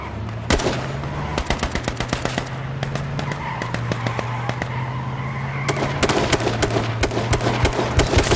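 Rapid bursts of gunfire from a police car in a video game, loud repeated shots in clusters over a steady engine hum and car noise, continuing throughout.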